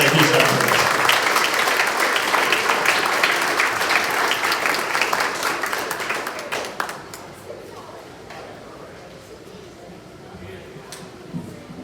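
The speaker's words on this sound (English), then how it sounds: "please give a round of applause for Phil Rico" Audience applause at a grand opening event, a dense steady patter of many hands clapping that gradually thins and fades toward the end, with a few scattered claps left trailing.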